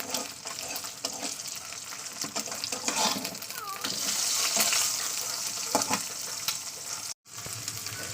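Eggs sizzle and spit in a hot pan, with scraping and clinks from a utensil; the frying swells louder midway, then briefly cuts out near the end.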